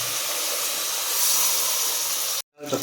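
Water poured into a hot pan while making rice upma, giving a loud, steady steaming hiss that goes on for over two seconds and then cuts off abruptly, with a brief faint sizzle returning at the end.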